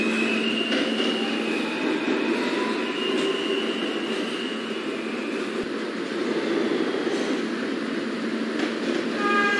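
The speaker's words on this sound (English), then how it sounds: "This is a Potato Brook bound and local train" A rumbling local subway train runs continuously, with steady rolling noise, faint metallic whines and squeals from the wheels, no voices.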